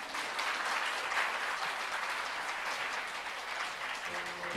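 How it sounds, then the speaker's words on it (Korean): Forum audience applause at the close of a startup-innovation session at the 2022 Jeju Forum, a steady wash of many hands clapping at moderate level throughout, with a faint voice creeping in near the end. "다시 한번 오늘 수고를 해주신 참석자분들께 다시 한번 큰 박수 부탁드리겠습니다."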